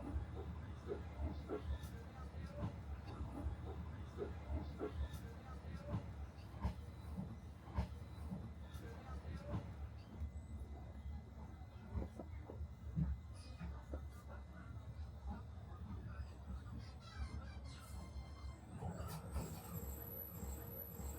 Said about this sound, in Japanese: 上方面から来た列車が向かいのホームに入ってきました。